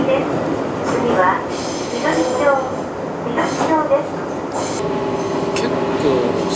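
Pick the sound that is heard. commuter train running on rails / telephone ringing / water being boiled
commuter train running on rails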